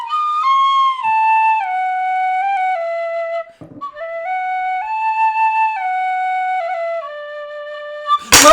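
A penny whistle plays a slow melody of clear sustained notes that step up and down, loud and close, with a short break midway and a sharp noise at the very end.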